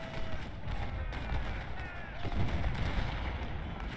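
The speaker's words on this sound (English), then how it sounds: "Canfield skirmishers fire into their flanks" Skirmisher rifle volleys in the Ultimate General: Civil War game, a dense crackle of distant shots over a steady low battle rumble, faint and continuous for a few seconds.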